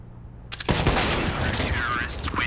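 Rifle fire erupts in a CS:GO match on Mirage, a sudden loud burst of rapid shots and clatter over a quiet start, with a commentator's voice running underneath.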